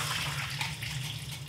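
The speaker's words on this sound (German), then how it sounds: "Die Linsen schütte ich ab." Soaked lentils being drained, with water pouring off them in a continuous close gush of splashing liquid, steady and fairly loud throughout with no talk.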